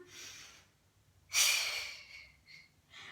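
A single deep breath is drawn in during a Pilates workout, a close breathy rush that swells and fades, with softer breaths before and after it, no talking.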